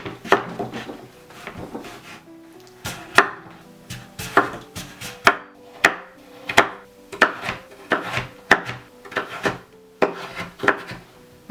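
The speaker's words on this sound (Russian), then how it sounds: "Я нарезаю кубиком" A knife chops pumpkin into small cubes on a board, a close series of crisp, regular thuds in quick bursts with short pauses between.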